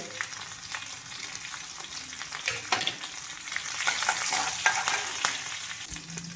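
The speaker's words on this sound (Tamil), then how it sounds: "கடுகு நல்லா பொரிஞ்சிருச்சு" Mustard seeds crackle and pop in hot oil, a dense sizzling spatter with sharper bursts throughout, close and fairly loud.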